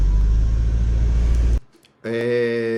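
A Mercedes-AMG GT 63 S E Performance engine rumbles loudly up close in Sport mode, drops away briefly, then returns in Sport Plus with a harsher, buzzing, tonal roar.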